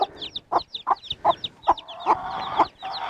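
A Sussex rooster and hens cluck close by in a steady series of short, rhythmic calls, with higher chirps from chicks woven in between.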